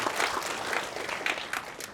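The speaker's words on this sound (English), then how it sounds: "give yourself a round of applause" Continuous applause from an audience, dense and steady clapping throughout, fairly loud and close.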